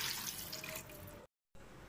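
Water is poured from a vessel onto three cups of rice for Godavari-style biryani, a steady splashing rush close by that cuts off abruptly near the end and then resumes.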